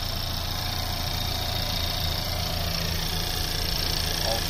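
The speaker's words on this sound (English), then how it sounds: "Cold start." A stock 2017 Honda Civic Type R sits idling just after a cold start, its engine a steady, even drone held at one level the whole way through, heard up close with no voices.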